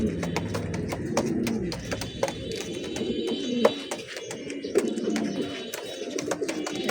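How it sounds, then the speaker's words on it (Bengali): A big-size, red-eyed Tota pigeon pair, the female's lower beak slightly broken, coos in deep repeated throaty rolls nearby, punctuated by crisp clicks and scuffs, without voices. "বিগ সাইজের লাল গিয়ারের তোতা পেয়ার।"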